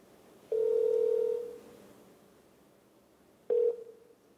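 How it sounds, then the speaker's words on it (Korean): A telephone tone heard while a call is placed during a Korean TV talk show: one steady tone holds for about a second, then after a pause a shorter second tone sounds, both clear against quiet studio hiss. "스케치의 이은선 기자님 지금 전화로 연결하겠습니다."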